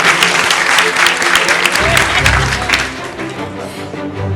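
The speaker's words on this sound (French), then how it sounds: "je vous demande d'applaudir" A debate competition audience at ULG applauds a candidate being introduced, loud dense clapping at first that thins and eases as a voice begins speaking over it.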